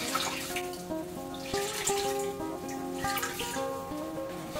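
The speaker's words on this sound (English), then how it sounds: "Squeeze the water out of this guy." Water runs and splashes steadily as washed wool fiber is squeezed out over murky wash water, a close, continuous trickle with dripping, heard alone.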